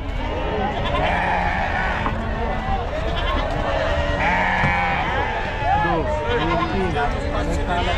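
Sheep and goats bleating repeatedly over a dense, noisy crowd babble at the Chakan livestock market in Maharashtra, many animals calling at once from near and farther away.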